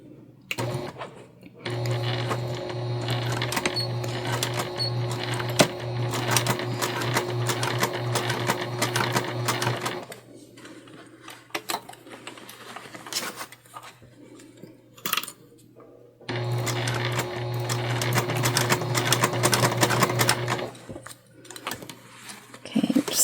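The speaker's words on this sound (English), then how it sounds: "We're gonna do a nice little top stitch, hold everything in place." A sewing machine top stitches holiday fabric in two long, close bursts of steady whirring and needle chatter, separated by a quieter pause with light handling clicks.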